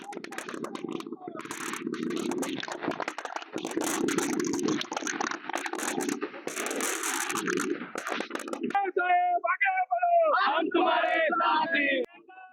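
Crowd of Nationalist Congress Party workers in Nashik and Yeola cheering and shouting in celebration of Chhagan Bhujbal's ministerial oath, a loud continuous roar of many voices with whistles and shrill calls rising toward the end.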